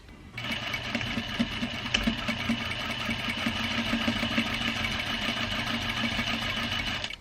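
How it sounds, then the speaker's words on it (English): A sewing machine stitching a facing onto a sleeve of a shirt dress made from a bed cover, running as a continuous close, fast rhythmic whirr and needle chatter for about seven seconds without pause. "I just sewed a line horizontally across to keep them together"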